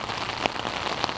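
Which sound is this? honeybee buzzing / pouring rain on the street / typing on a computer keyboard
pouring rain on the street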